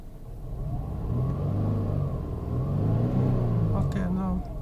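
A Peugeot 407 Coupe V6 with a manual gearbox, recently cleared of a cylinder 6 misfire, revs up under throttle while cold, rising and falling in a steady close rumble.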